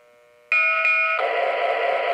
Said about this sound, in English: So you can hear the bell ring 2 times and the air release.